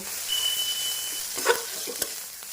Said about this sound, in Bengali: নুন আর দেব সামান্য হলুদ এবারে নাড়াবো